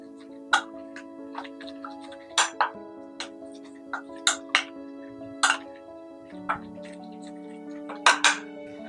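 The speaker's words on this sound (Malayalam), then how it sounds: "ഇതെല്ലാം കൂടെ നമുക്കൊന്ന് മിക്സ് ചെയ്ത് കൊടുക്കാം" Spoon or utensil clinks against a bowl while soya chunks are mixed with masala and garlic: about a dozen sharp, irregular taps and scrapes over a steady low hum, with no talking.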